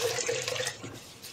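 Water runs from a tap into a rice cooker holding jasmine rice, a brief, soft splashing stream close by that fades toward the end.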